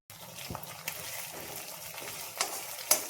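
Green chillies fry in hot oil, giving a steady low sizzle with a few brief stirring clicks and scrapes close by, and no voices.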